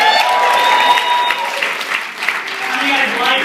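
An audience at a Toronto business seminar applauds loudly, dense continuous clapping filling the room, with a speaker's voice heard over it.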